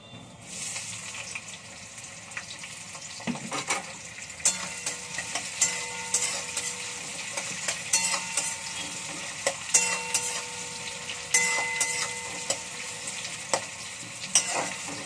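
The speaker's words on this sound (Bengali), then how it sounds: "এবার তেলটা তো গরম হয়ে গেছে, পেঁয়াজগুলো দিয়ে দিই।" Onions sizzling in hot oil with bay leaves for chole masala, a steady crackle over repeated close scrapes and taps of a spatula against the pan, with no voices.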